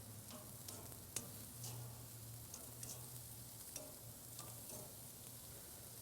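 Peppers sizzle on a backyard grill, a faint steady crackle with a low hum and a few small clicks, quiet and continuous with no talk.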